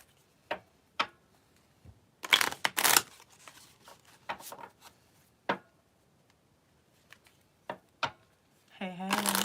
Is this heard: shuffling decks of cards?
yes